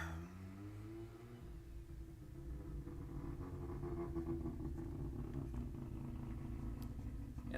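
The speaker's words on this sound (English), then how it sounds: "And that was a motorcycle." A motorcycle plays back from a tape, a low purring engine drone that rises a little and holds steady, quiet and slightly muffled.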